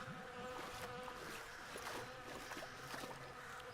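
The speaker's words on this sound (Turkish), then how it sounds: "Ya şu sivrisinek sesini..." Mosquito buzzing in the Western shooter video game Call of Juarez Gunslinger: a steady, faint, whining hum runs unbroken throughout under soft outdoor ambience.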